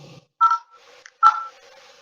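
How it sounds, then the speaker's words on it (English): Keypad tones from a Cat B35 phone, two loud, close, clean beeps separated by a short gap, each trailing off briefly, with quiet low murmur between them. "if I go to dial in a number"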